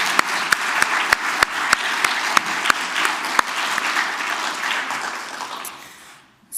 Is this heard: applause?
yes